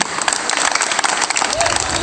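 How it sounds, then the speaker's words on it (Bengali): School students clapping together in a large group, a dense, steady patter of applause filling the space for the full stretch, fairly loud and close with crowd murmur mixed in. "এই তোমরা হাততালি বাজাও।"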